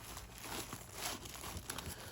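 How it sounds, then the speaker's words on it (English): Cheap Coghlan's plastic poncho handled in a chest pack outdoors, soft, quiet, continuous crinkling and rustling with small irregular bursts, close up and without speech. "I just keep a poncho, just a cheap Coghlan's poncho."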